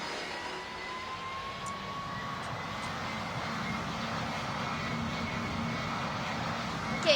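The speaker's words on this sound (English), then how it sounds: "Since you see your flap set to 1, and then you slowly lift the aircraft off." Steady airplane engine roar as an aircraft takes off with flaps set to 1 in a Roblox pilot training flight simulator game, a constant broad drone at moderate level with faint voices underneath.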